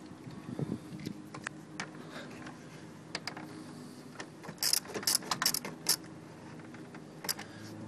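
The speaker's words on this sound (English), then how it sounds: "Tighten the screw." A screwdriver turns a screw on a car headlight assembly, giving small scattered clicks and metallic ticks, the sharpest in a brief cluster partway through, all quiet and close.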